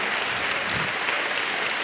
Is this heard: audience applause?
yes